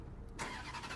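A Ferrari F430 with a 4.3 V8 rumbles steadily close by, its low engine note swelling into a fuller, richer sound partway through the short stretch, with no talking over it.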